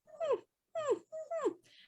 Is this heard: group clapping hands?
no